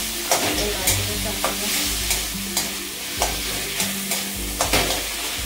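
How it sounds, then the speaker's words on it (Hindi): Potato pieces being stirred into sizzling masala in a pan for Bihari aloo bharta, with steady frying sizzle and repeated scraping stirs at a regular rhythm, close and fairly loud. "मसाला रेडी हो गया इसमें आलू डालना है"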